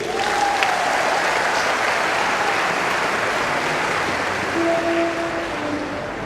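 A church congregation applauds, giving a continuous, even wash of clapping hands that fills the room for six seconds, with faint tonal hints beneath it.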